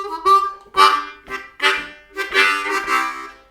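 Blues harmonica playing the opening lick of a blues tune, a run of short, bending reedy notes in quick bursts separated by brief gaps, close and clear with no talking.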